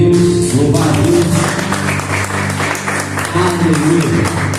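A church congregation claps along, a loud, dense burst of hands mixed with music or sustained voices and tonal sound throughout, with the clapping steady beneath it.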